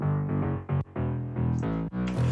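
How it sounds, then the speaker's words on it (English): A soloed synthesized bass patch playing a run of sustained, buzzy notes with short gaps between them, loud and upfront with nothing else heard. "this bass sound isn't anything special on its own."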